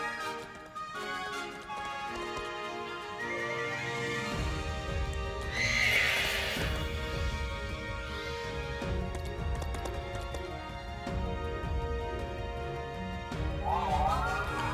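Glastrier, the icy horse Pokemon in Pokemon Sword, gives a sharp whinny over orchestral game music, followed later by a second shorter neigh, both loud and near.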